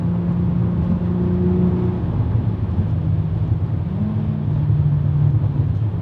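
A VW Golf MK5 R32 turbo with an HPA Motorsport FTX700 build and seven-speed gearbox drives at speed, its engine giving a loud, steady, close drone with shifting tonal hums throughout.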